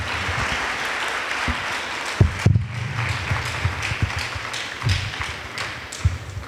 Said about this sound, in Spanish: con la bienvenida que le vamos a dar con un muy fuerte aplauso